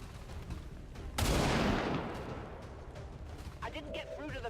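Shots fired during a turn-based XCOM 2 battle against a heavily armored alien, with ballistic weapons: a sudden loud blast-like burst that decays over about a second, then softer game effects and chirps over continuous background.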